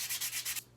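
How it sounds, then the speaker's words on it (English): Steady rubbing strokes of sandpaper on a rosewood knife handle for a Grohmann No 4 kit build, close and rhythmic, about five back-and-forth passes before stopping. "that's not even 10 minutes of sanding, and already that's pretty smooth"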